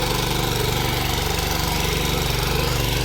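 A mini tractor's engine runs close by with a steady, throbbing mechanical drone and rapid knocking pulse, loud and unbroken throughout.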